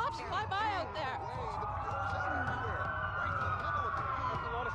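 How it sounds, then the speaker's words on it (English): Several police sirens in a video game wail and overlap at a distance, rising and falling, with voices and busy background noise underneath. "That's a lot of sirens for a blackout."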